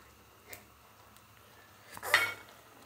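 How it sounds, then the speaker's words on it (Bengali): A utensil clinks and scrapes against a pan while carrot halwa with milk and milk cream is stirred, a faint tap followed by a louder brief scrape, close but quiet. "ভালো করে মিশিয়ে দিচ্ছি, দিয়ে দিচ্ছি কিছু দুধের সর"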